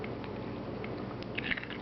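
Crunchy chicken salsa lasagna with thin crusted noodles and cheese is bitten and chewed close up, giving soft, faint crunches with a slightly louder crackle near the end.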